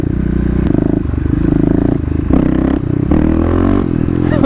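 A Kawasaki KLX351 with its secondary throttle blade removed accelerates hard through first and second gear, the engine note climbing loud and close, dropping briefly at the shift, then rising again with some clatter.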